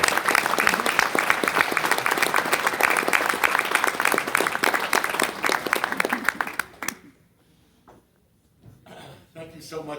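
An audience at a community prayer breakfast in Monrovia claps in sustained, dense applause for Rabbi Ira Rosenfeld, then it dies away abruptly and a voice briefly talks over the quiet.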